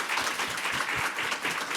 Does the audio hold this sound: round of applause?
yes